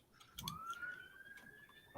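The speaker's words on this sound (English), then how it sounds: "What's that, Chips? What have you been doing? The sirens?" A police siren sounds outside, a single rising tone that sweeps up and holds steady, moderately faint and distant against a quiet background.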